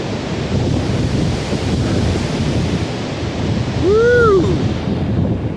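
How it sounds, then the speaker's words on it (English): A gust of wind roars across the microphone on a rainy mountain hike in the Great Smoky Mountains, a steady broadband rush that swells slightly near the end, with a brief whistle-like tone briefly rising over it. "Here comes another gust of wind."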